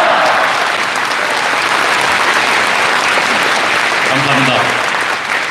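Loud, thick crowd applause fills a large convention hall at a party founding convention, sustained clapping from a huge gathering with faint voices rising briefly near the end.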